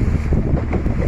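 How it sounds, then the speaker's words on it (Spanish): Motorboat cruising on open water on a fishing outing, with steady wind buffeting the microphone and a low rumbling hull and engine wash throughout the short stretch. "paseo en lancha"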